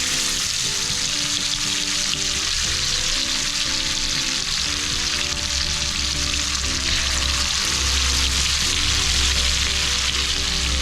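Fish sizzles steadily in hot oil for a homemade fish shawarma, a dense, continuous crackle that runs close and even from start to finish, with a faint tonal hum underneath and no talking.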